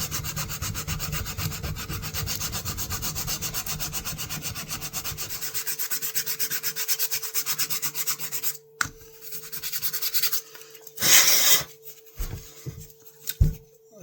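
Sanding a knife handle and blade with 80-grit abrasive gives continuous close rubbing strokes for about eight seconds, then pauses, a brief burst and a few scattered scrapes and knocks.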